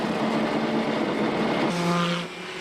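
Racing engines of Group C and GTP prototype cars such as the 1989 XJR11 Turbo on the rolling lap at Brands Hatch in returning rain, a steady loud drone that shifts pitch as the revs rise.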